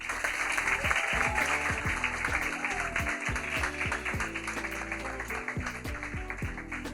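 Audience clapping warmly for a guest introduction, a steady patter of hands over rhythmic music with a beat and sliding tones running underneath.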